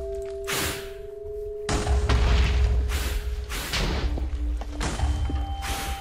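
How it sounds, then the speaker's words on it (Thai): Wither boss explosions in Minecraft: heavy booming blasts and thuds come one after another, loud and close, over a continuous rumbling game backdrop. "ผมเริ่มรำคาญเสียงวิเทอร์แล้วแม่งเสียงโคตรดังเลยนะครับ"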